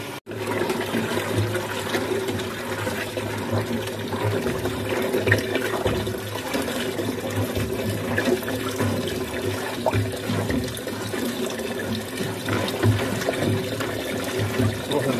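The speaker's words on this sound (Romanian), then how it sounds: "E să torn aici saramura." Brine for pickled cabbage poured steadily into a barrel, a continuous loud splashing and gurgling stream that runs unbroken throughout.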